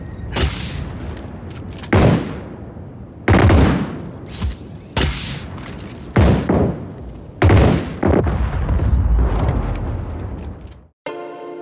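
Heavy weapon fire in Just Cause 4: loud booming shots and blasts in irregular bursts, each sharp impact followed by a rumbling decay, close and powerful, with a brief cutoff near the end.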